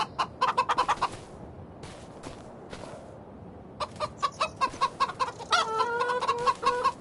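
Chickens and a rooster in the farming video game Farming Simulator 25 cluck in quick bursts, pausing briefly before a denser run of clucks and a louder call near the end, with no talking.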